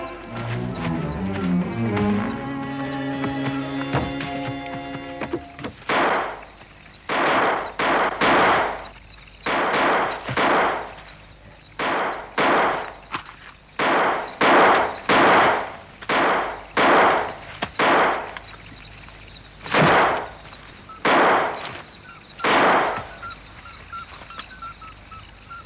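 Gunfire in an animated adventure episode: after a brief musical phrase, a long series of sharp, loud shots bursts out at irregular intervals of roughly a second, with no talking.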